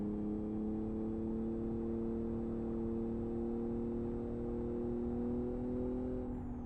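Six-cylinder car engine in the Live For Speed racing game on a rallycross circuit, a steady droning tone that climbs slowly in pitch throughout, loud and continuous with no talking.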